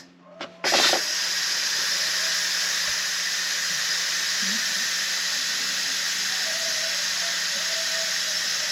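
An Instant Pot's pressure valve is flipped to venting after cooking rabbit, letting out a loud, continuous hiss of escaping steam that starts abruptly after a brief click and holds steady to the end.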